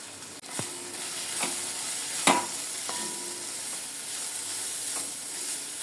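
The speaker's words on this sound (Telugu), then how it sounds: "ఈ కొబ్బరి పచ్చిమిర్చి మిక్సీ వేసిన ఉంది కదా ఇది కొంచెం దీనిలో వేసి మళ్ళీ ఒకసారి ఫ్రై చేసుకున్నాం" Coconut and green chili paste sizzles in a pan, a constant close frying hiss broken by a few sharp scrapes and clinks of stirring.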